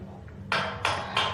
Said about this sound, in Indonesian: Sorry ya berisik. Ada renovasi.